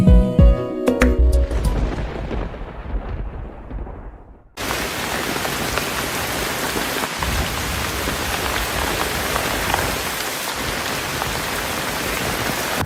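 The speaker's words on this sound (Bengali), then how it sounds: "চারপাশে অঝোর ধারায় মুষলধারে বৃষ্টি" A musical opening fades out, then heavy torrential rain takes over abruptly as a dense, loud, steady roar of pouring water that continues unbroken to the end.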